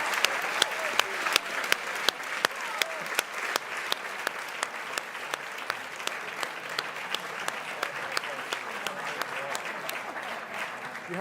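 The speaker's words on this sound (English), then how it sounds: "I would love it if you would join us in a round of applause to Anke" Sustained applause from a crowd at a London art auction evening sale, steady clapping with a few sharper claps standing out, continuing throughout.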